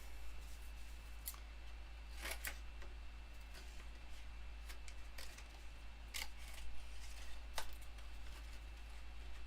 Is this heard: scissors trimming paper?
yes